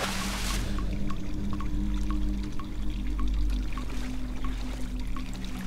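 Water rushing and pouring in the Cry of Fear horror game, a continuous loud splashing flow with a low rumble and scattered dripping plinks, steady throughout.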